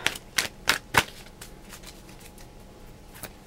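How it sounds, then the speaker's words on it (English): Tarot cards being shuffled, four crisp riffling bursts in the first second followed by softer, sparse card flicks, close and alone without voices. "don't want to watch or be annoyed with my shuffling of the cards"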